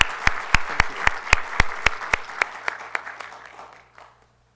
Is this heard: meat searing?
no